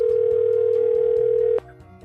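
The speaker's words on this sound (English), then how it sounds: "I was getting a real phone call." A loud, steady telephone tone drones continuously through a phone call, then cuts off abruptly near the end, leaving faint background noise.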